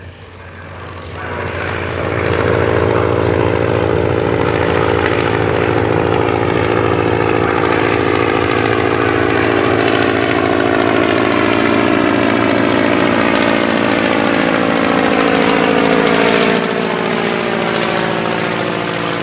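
Avro triplane replica, built as a film aircraft after a Science Museum original, drones with a steady, loud propeller engine note that swells after a couple of seconds and holds close by with no voices.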